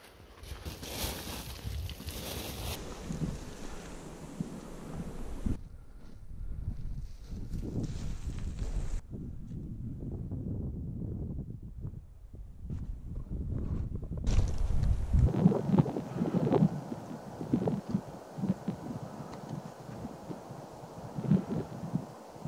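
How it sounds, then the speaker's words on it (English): Wind swirls across a mountain hillside on a tahr and deer hunt, buffeting the microphone in uneven gusts that rise, drop away almost to stillness, then return stronger and rougher toward the end. "The wind's swirling around quite a lot"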